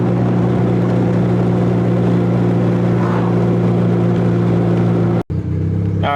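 A turbocharged Acura Integra cruises along at steady speed, its engine drone loud and constant with strong low harmonics, then briefly drops out before resuming near the end.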